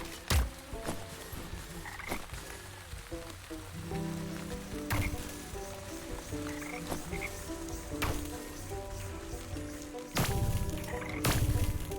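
Frogs croaking in Wytchwood, a chorus of repeated croaks over soft rain-like patter, with a few sharp thuds breaking through.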